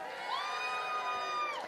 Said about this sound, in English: Give her an extra big round of applause.